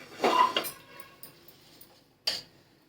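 A metal tava griddle set down on a kitchen stove while making green pea dosa, giving a clattering metallic knock, then a single sharp clank about two seconds later, fairly close with quiet between.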